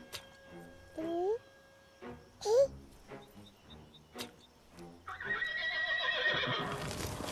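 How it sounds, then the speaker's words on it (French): Horses neigh loudly in two sharp, rising whinnies up close, followed by hoof clip-clops and a building rush of noise toward the end. "Regarde-moi ces pauvres chevaux."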